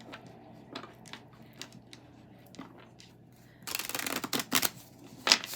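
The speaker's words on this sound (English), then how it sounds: "I'm going to shuffle again." Tarot cards are handled with soft, scattered taps and slides, then a denser burst of quick riffling shuffles near the end, close and fairly quiet.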